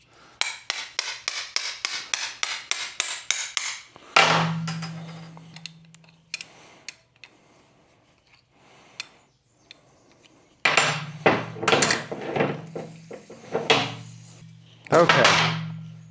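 Sharp metal hammer blows knock old link pin bushings out of a VW front end: a quick run of about a dozen rhythmic strikes, then scattered taps and clatter, with bursts of talk in between.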